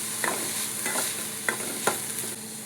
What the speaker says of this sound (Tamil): ஒரு பேனில் எண்ணெய் சேர்த்துக்கணும். எண்ணெய் சூடான பிறகு பொடியாக கட் பண்ணி வச்சுருக்க வெங்காயத்தை சேர்த்துக்கணும்.